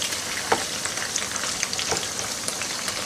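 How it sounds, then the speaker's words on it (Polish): Bacon frying gently on low heat in a pan, rendering its fat, a soft steady sizzle with scattered small crackles and pops, close and alone without talk. "I tutaj na małym ogniu się to delikatnie smaży."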